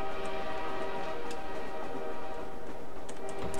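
A steady train rumble with sustained tonal horn-like hum fills the scene in the video game Garry's Mod, continuous and even, with faint ticking and no talk.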